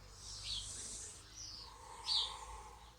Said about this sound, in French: On pense à autre chose, on écoute les petits oiseaux.